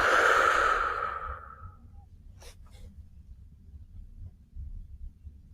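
A long, deep exhale sighs out during a gentle relaxation yoga session, loud and close at first, then fades into a quiet room with faint low rumble.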